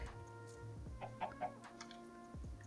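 Chickens in a Minecraft modpack game, several short clucks in quick succession over a steady background of game music tones, close and moderately loud.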